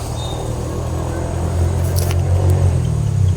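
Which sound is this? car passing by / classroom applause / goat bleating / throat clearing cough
car passing by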